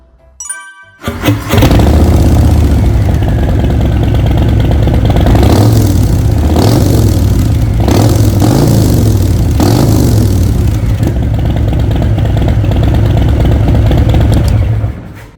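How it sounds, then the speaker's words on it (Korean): A 2022 Harley-Davidson Breakout 114 (1868cc) with an aftermarket Vance & Hines straight-pipe muffler starts and rumbles loudly and deeply, revving several times in throaty surges before settling back, close and continuous throughout. "반스 머플러 직관입니다. 소리 한번 들어보시죠."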